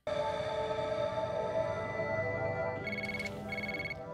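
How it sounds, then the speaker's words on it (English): A telephone rings with a steady electronic tone that continues for several seconds, and a brief higher beeping pattern joins near the end. "It's just a phone."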